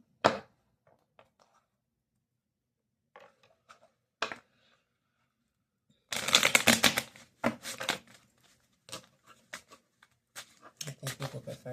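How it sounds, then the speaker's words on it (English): Tarot cards being gathered and shuffled close by: sparse light taps and rustles at first, then a dense riffling burst followed by intermittent flicks and snaps, with no talk. "So I'm going to make it where you see me shuffling"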